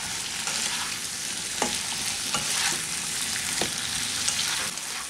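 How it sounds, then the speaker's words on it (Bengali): Salted potatoes fry in a pan for a simple potato fry. A constant close sizzle runs throughout, with a few scraping stirs of the spatula rising above it. "এখন আলুটাকে একটু ভালো করে নেড়ে নিচ্ছি।"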